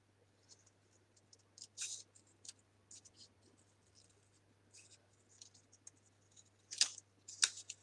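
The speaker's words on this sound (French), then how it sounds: "ce qui est bien avec ces ciseaux-là, c'est que c'est le papier qui tourne, c'est pas le ciseau" Small scissors cut paper for a butterfly bouquet card in a series of faint, soft snips and rustles, growing a little louder near the end, heard close and alone in a quiet room.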